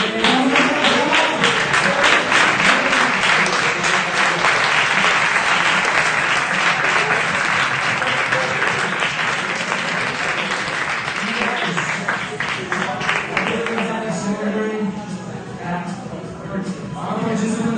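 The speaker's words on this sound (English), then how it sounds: "Could you give us an applause?" Sustained audience applause at startup final presentations, a dense wash of many hands clapping that gradually thins out, with voices emerging near the end.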